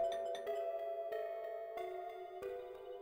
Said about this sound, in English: Even the little chime it made when pressed sounded elegant.